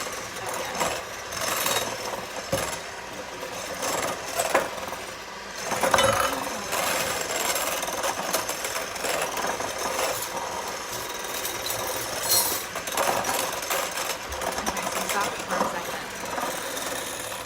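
Electric hand mixer whipping sugar into meringue for chocolate meringue pie, a continuous whirring motor hum running throughout, near and steady, with people talking over it.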